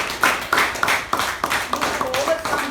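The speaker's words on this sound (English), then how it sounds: "So give yourselves a huge round of applause." Audience at a Toastmasters club meeting claps in a steady series of sharp, fairly close hand claps from a modest group, with voices faintly underneath.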